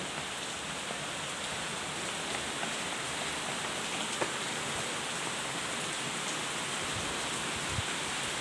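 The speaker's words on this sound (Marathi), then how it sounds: "जोरा तसा पाऊस येतो" Heavy rain pours down in a dense, constant hiss with occasional louder drops, steady and unbroken throughout.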